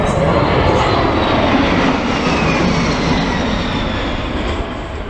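A Boeing C-17 Globemaster III military transport makes a slow pass at an airshow, producing a loud, continuous broadband jet roar that holds steady and eases off slightly toward the end, with no voices.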